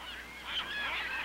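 North Atlantic gannets call in harsh, honking cries from an old 1963 wildlife film soundtrack, a continuous overlapping clamour that swells partway through, with no talking.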